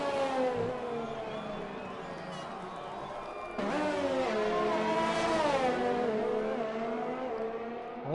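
Race car engines whine through gear changes in a Formula 1 style racing video game at a Japan round, several cars droning and shifting pitch together, with commentary talking over them.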